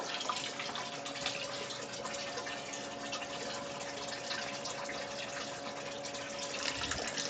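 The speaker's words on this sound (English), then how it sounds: "So while we let that water run in" Water runs steadily into a brewing vessel while preparing a rauchbier, a constant close rushing flow with a faint underlying hum, no talking.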